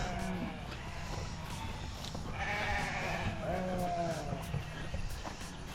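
Sheep in a hot pasture bleat repeatedly at moderate distance, several overlapping wavering calls rising over a background of outdoor noise and a faint engine rumble.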